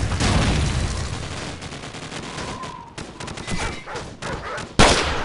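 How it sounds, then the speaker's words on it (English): Dense gunfire from the video game Call of Duty 4: Modern Warfare, with loud overlapping rifle and machine-gun bursts sustained throughout and a sharp blast near the end. "Give me some covering fire."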